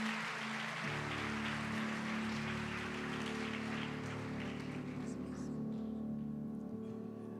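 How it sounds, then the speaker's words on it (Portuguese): Church congregation clapping together in praise during a Portuguese-language worship service, a steady dense wash of many hands that continues throughout over sustained music, fading slightly near the end. "Louve ao Senhor com as suas palmas"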